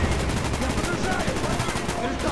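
Rapid automatic AK rifle fire in the video game Call of Duty Black Ops rattles continuously in a dense, loud burst, shots closely spaced and near.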